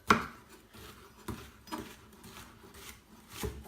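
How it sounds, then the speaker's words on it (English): A knife chops courgette into rounds on a board, a few separate dull knocks spaced about half a second to a second apart, fairly close and quiet. "Next up is the courgette, so just cutting that into rounds"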